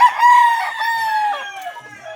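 A six-month-old white Kelso gamefowl rooster crows loud and close in one long, strained cock-a-doodle-doo that trails off hoarsely.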